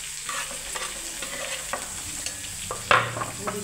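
Cumin, onion and curry leaves sizzling in hot oil in a pan, a steady crackling fry with scraping stirs throughout and a sharp louder burst near the end.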